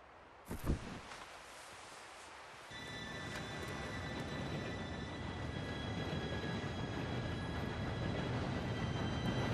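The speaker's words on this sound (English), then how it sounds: "Train should be here any minute now." A train in Red Dead Redemption 2 approaches with a steady, building rumble and rolling clatter, faint high whines above it, after a brief sharp knock at the start.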